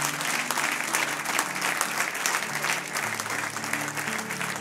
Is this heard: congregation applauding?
yes